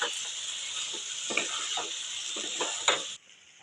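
Fried potato and eggplant being stirred together with spice paste and dried fish in a pan, steady sizzling hiss with scattered soft scraping stirs, close and continuous, stopping abruptly near the end.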